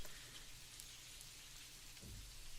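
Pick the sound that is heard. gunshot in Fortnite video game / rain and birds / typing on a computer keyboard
rain and birds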